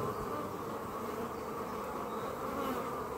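Honeybees crawl over a central hive frame during an inspection, making a faint, steady buzzing hum close by that continues unbroken throughout, with no talking.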